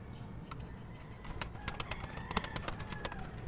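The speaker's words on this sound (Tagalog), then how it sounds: "Dumami na yung ating kalapati guys." Pet pigeons coo softly and their wings flap in brief flurries nearby, against a low background rumble with no talk.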